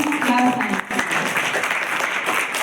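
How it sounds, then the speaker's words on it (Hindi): A school farewell-ceremony audience breaks into loud applause, dense clapping filling the room with some voices and cheers mixed in. "एक बार जोरदार तालियां"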